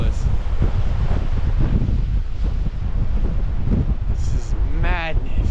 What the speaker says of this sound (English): Wind is blowing so hard